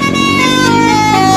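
A loud, sustained basuri horn on a bus blares a steady multi-tone chord right up close, with rich layered harmonics and the note shifting slightly near the end.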